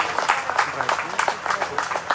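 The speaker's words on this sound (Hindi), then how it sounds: "जोरदार तालियां" An audience gives loud applause for a young girl at a school performance, a dense, steady patter of many hands clapping at once with no break.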